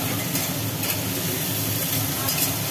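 Fried potatoes dropped into hot oil with whole cumin and cumin paste, giving a steady, close sizzle with light stirring scrapes throughout.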